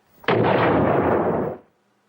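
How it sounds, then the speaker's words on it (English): A small gunpowder explosion bursts from a peace pipe in a cartoon, a sudden loud blast that holds as a roaring rumble for over a second, then cuts off abruptly into silence. "the small explosion doesn't happen until the pipe is passed to Sheriff Grindstone"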